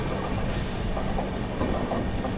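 Dakshin Express train rolling steadily on the rails, a continuous loud rumble with faint clattering and no talk.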